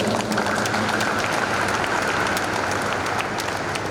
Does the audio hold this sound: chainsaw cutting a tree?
no